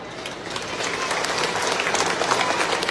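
Audience applause fills a hall at a Muslim college's centenary celebration, a dense, steady wash of many hands clapping that builds slightly in loudness, with no talking over it.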